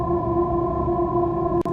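Airy, light synth pad played dry with no effects, holding steady sustained tones throughout with a brief dropout near the end; smooth and even, with no voice.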